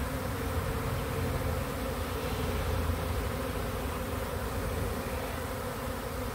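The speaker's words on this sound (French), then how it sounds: "Elles sont en train d'investir leur nouvelle maison." A honeybee swarm settles into its new hive, producing a dense, continuous buzzing drone that stays loud and steady throughout with no pauses and no voices.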